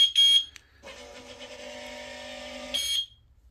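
Alarm on a solar-powered anti-parking barrier lock with three anchor bolts, set off when someone presses on it: short shrill beeps, then a loud steady buzzing tone for about two seconds, ending in another sharp beep.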